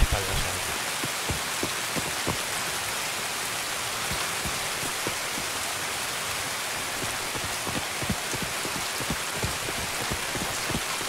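A steady rainstorm on the Shoreline map in Escape from Tarkov, dense drops hissing and pattering on surfaces, constant and close throughout without a break.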